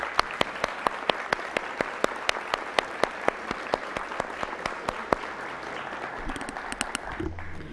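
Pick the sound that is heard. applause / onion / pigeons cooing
applause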